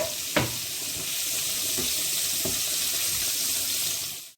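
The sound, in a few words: chopped pancetta frying in a pan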